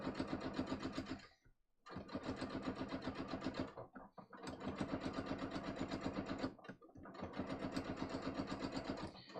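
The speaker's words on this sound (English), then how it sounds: "I'm just sewing along, pressing on the foot pedal" A foot-pedal sewing machine runs in three long steady stretches of rapid stitching, broken by short pauses, loud and close with no talking.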